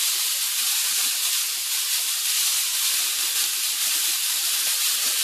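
Burgers sizzle in a pan at home with a constant, loud, bright hiss that holds steady throughout and has no voices over it.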